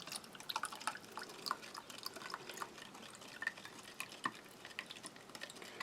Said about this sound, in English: using the handle of the large spork I'll just give that a good old mix